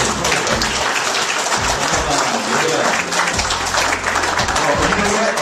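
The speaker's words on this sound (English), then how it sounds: "I want you to give him a very big round of applause" Audience applause for DJ John Leslie Gracias: loud, continuous clapping from a crowd with some cheering, steady throughout, with indistinct voices mixed in.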